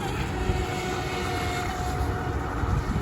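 A UDI-010 brushless RC boat runs at full throttle outdoors, a steady, loud high-pitched motor drone with broadband water and wind rush, continuous and unbroken throughout.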